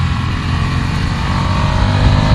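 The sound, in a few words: Ducati Scrambler Desert Sled engine, quickshifter changing gear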